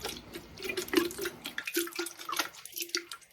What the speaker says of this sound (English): So I am going to sprinkle some mosquito dunk water in here.